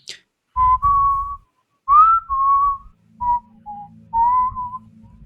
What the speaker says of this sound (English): and then this off-key whistling going